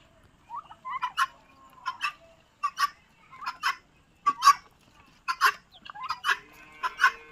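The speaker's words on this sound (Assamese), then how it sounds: "এই কুকুৰা কেইটাক মানে ইমান দানা দিছোঁ আৰু খাবলৈ আহিছে" Chickens feeding close to an open fire call out in a string of short clucks and squawks, several birds near the microphone, with a faint background hiss and no talking.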